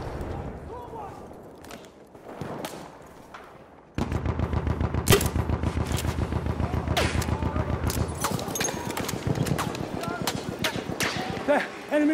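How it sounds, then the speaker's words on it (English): An enemy machine gun rattles in a war video game, bursts of rapid, loud gunfire starting abruptly after quieter opening moments, with a voice calling out over the shooting. "Enemy machine gun."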